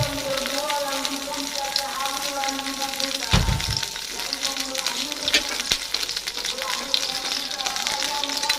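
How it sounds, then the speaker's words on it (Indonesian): Ground meat and instant spaghetti sauce stirred in a hot pan, a steady close sizzle with spoon scrapes and a brief bump partway through, with background voices around it. "Aduk-aduk."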